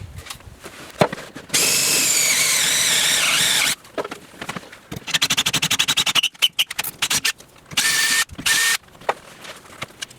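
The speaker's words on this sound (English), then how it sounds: "I'll enlarge the hole using a step bit and then use a final drill bit of 19/64 for the final size of the 1024 rib nut." A power drill runs a step bit and then a 19/64 drill bit to enlarge a hole for a 1024 rib nut during a Kids Kot installation: one long steady whir, then a string of short, choppy bursts.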